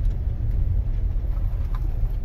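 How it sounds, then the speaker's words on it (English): A car drives along a rough construction road through a new housing site, with a steady low engine and road rumble filling the whole stretch. "I'm driving through everybody's backyard."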